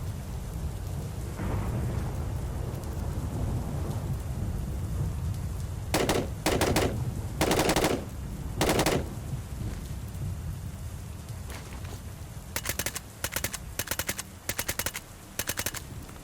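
Gunfire in the S.T.A.L.K.E.R. video game with the MW 2019 sound overhaul mod: several loud bursts of shots over a steady rumbling, rain-like ambience, with a cluster of rapid shots near the end.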